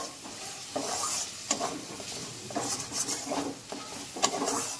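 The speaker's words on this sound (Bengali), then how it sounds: "তেজপাতা কেটে দিলাম, দিয়ে আর একটু মিক্স করে নেব।" Chopped bay leaf being stirred into spices in a pan while they gently sizzle, with repeated scraping strokes of a utensil against the pan, close and clear.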